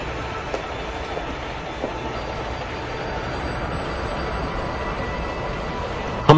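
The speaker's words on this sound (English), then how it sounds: "like the Doppler shift in the sound of a receding locomotive" Locomotive rumbling steadily with rail clatter, a broad continuous roar at moderate distance holding at an even level with faint clicks.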